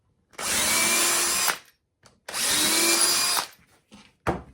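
A power drill widens pilot holes in a wooden guitar mould, two sustained whirring bursts of about a second each, close and loud, followed by a brief third spin-up.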